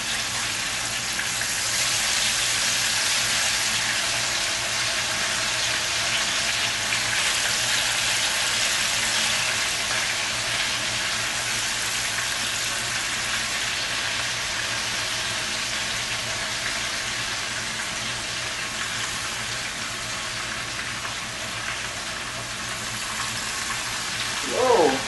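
Jamaican escovitch fish frying in hot oil in a pot, a steady loud broadband sizzle that holds evenly throughout with no talk over it.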